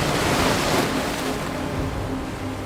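Waves wash steadily onto a beach shore in a broad, continuous rush of surf, fairly close and loud, with no voices.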